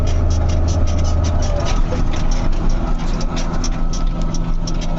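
A Fiat Agri G190 tractor pulling a Tolmet Tytan 300 disc harrow across a field after rye sowing, its engine droning loud and steady with rhythmic clattering from the implement throughout.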